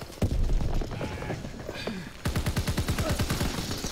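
Rapid gunfire from Call of Duty WW2 multiplayer on a hill objective, with a dense stretch of shots followed by a fast, evenly spaced burst of loud, close automatic fire.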